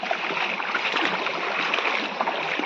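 Steady broadband rush of a rain-swollen stream, continuous and fairly loud with no voices.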